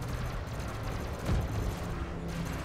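Gunfire strikes a spaceship in the Elite Dangerous space combat game as a steady, muffled rumbling barrage, with one heavier thud partway through. It stays fairly quiet and no one speaks.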